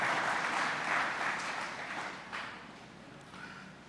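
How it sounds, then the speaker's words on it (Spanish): Applause from a church congregation during a sermon: dense, steady clapping that fills about four seconds and slowly tapers off, with no voices over it. "Dese un aplauso"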